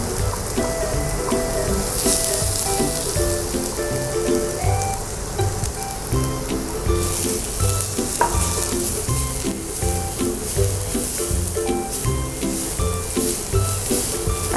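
Garlic fries in hot oil with a steady, close sizzle and crackle that persists throughout, stirring heard over background music, no speech.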